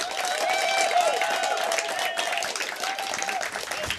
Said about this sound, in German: Das war ein ziemlich ordentlicher Applaus.